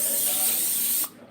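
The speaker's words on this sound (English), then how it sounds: "I don't like using cooking spray, but it's the only way." Cooking spray hisses into a baking pan for cookie brownies: one steady, close spray lasting about a second, then it cuts off abruptly.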